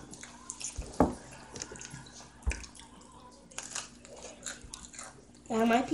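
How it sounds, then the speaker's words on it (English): Someone eats crunchy pizza at a table, with a few crisp bites and soft chewing close to the microphone among quiet background noise, and a voice briefly starts near the end. "My pizza is crunchy."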